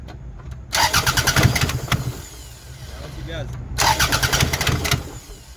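A 2005 Toyota RAV4 with hard-starting and smoking problems cranks twice with a little throttle, each loud, rapid starter churn followed by a rough engine note, while a person talks nearby.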